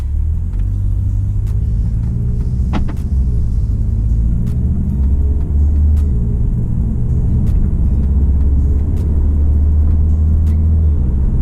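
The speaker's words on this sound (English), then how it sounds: "That was the fourth gear right there, and passed through the third gear." Car with a DSG gearbox driving and shifting through third and fourth gear, heard as a loud, steady low engine and road rumble from inside the cabin, with a few faint clicks and no clear shift points.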